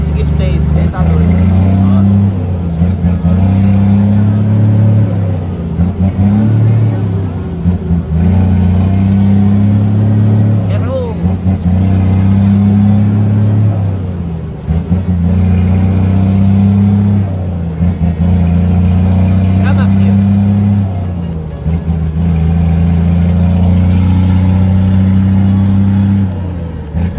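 Scania truck engine pulling hard on the road toward Goiânia, a loud, steady low-pitched drone that rises and holds throughout, with someone talking over it.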